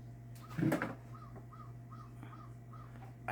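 Crows caw in a short series of repeated calls, moderately far off, over a steady low hum with a brief louder knock near the start.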